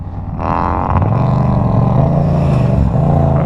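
A Yamaha MT07 motorcycle revs hard during a wheelie, the close, loud engine note climbing and holding at high revs for a few seconds.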